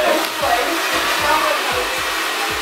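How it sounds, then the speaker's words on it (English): A hair dryer blows steadily throughout while drying hair, a continuous loud airy roar with faint soft thumps underneath. "Now we're just blow drying his hair in the direction that we want it to go."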